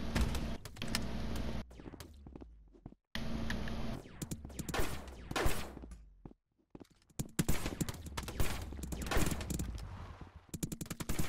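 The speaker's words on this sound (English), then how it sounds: "Who's sniping us? Is someone sniping us?" Sniper and gun fire crackle through a player-versus-player match in the video game Rec Room, sharp bursts and rapid rattling volleys with brief gaps, some shots close and loud, others fainter.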